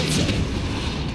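A Depulso spell cast in Hogwarts Legacy lands as a heavy, booming blast with a dense low rumble, loud and brief, sustained through the short moment.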